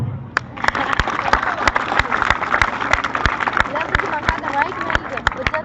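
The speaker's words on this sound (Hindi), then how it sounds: "अरे तालियां तो आने दो।" Audience clapping at a school Independence Day speech, a crowd of hands applauding with sharp, regular claps throughout, mixed with murmuring voices and a speaker talking over it.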